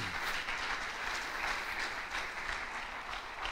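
A church congregation applauds for the Lord during a sermon, a continuous, somewhat muffled wash of many people clapping at moderate level with a low rumbling undertone.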